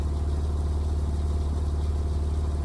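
A Porsche 911 997 Turbo Cabriolet with a 3.6 liter flat-six engine idles nearby, giving a steady, even low rumble with no voices.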